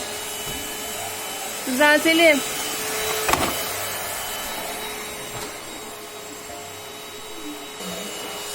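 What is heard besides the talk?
vacuum cleaner running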